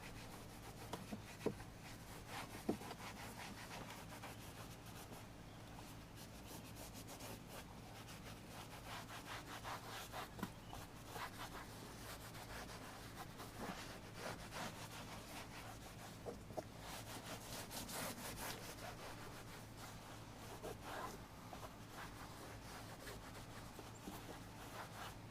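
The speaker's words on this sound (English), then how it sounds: "you want to take a dry microfiber towel and go back over it again." Dry microfiber towel wiping across a Jeep 392 interior surface, a faint continuous rubbing and swishing with a steady back-and-forth texture, quiet and close with no talking.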